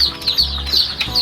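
Young chickens in a brooding farm house give a close, continuous chorus of high chirps and soft clucks.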